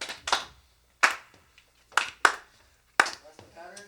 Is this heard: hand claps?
yes